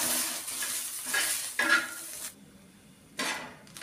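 Onions sautéing in oil in a pan give a loud, close hissing sizzle with repeated stirring scrapes, breaking off briefly and then resuming.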